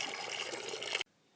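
Water is poured in a steady, close gush for about a second, then cuts off abruptly into near silence.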